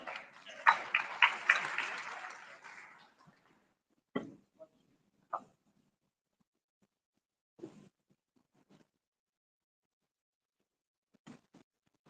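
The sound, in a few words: audience applause for a workshop guest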